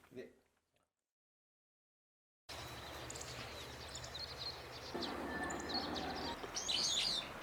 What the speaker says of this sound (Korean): 찻소리 하나 없이 새소리가 반겨주는 아침.